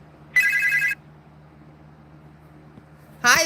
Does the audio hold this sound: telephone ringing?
yes